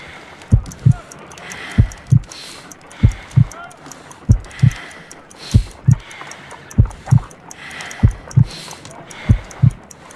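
Steady heartbeat in the Sherlock Holmes: Crimes and Punishments video game, a slow pulse of paired low thumps repeating evenly about a dozen times, loud and close over a faint background hum.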